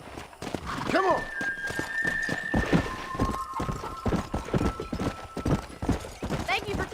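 Horse hooves clip-clop steadily in the Red Dead Redemption video game, with a horse whinnying near the start, while in-game dialogue plays over the hoofbeats.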